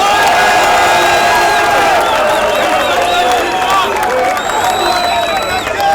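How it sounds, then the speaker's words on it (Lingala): A large outdoor crowd at a political rally in the Democratic Republic of Congo applauds and cheers loudly and without a break, with whistles and shouts over a dense roar. "applaudissez pour vous-même"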